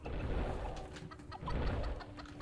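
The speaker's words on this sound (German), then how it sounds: "die ersten Hühner können schon mal entstehen, sodass wir die Leute füttern können" Chickens cluck and coo close by in the dungeon-building video game Dungeons 4, steady fowl chatter over a dense, loud game background.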